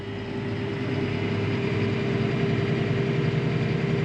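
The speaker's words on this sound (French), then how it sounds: "Et même si j'accélère le tracteur" A tractor engine runs steadily at high revs near 4000 rpm, a loud continuous drone with a stable hum that holds even as the throttle is pressed, with no voices.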